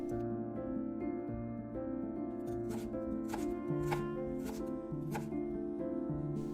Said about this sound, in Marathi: 2 टोमॅटोचे बारीक स्लाइस करून घ्यायचे आहेत